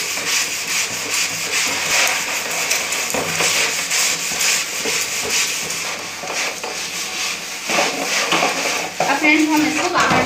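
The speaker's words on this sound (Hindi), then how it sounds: "जूने की मदद से हमें इसे हल्का हल्का सा रगड़ देना है" A scouring pad scrubs a dirty plastic tub with continuous rough, rasping strokes, close and fairly loud, while a voice talks over the rubbing.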